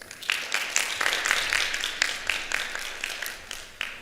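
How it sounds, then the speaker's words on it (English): Audience applause at an academic exposition opening ceremony, with steady, dense clapping from a crowd that carries on evenly throughout and is heard alone, without any voices. "So another round of applause."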